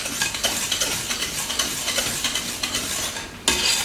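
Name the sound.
stirring eggs and sugar together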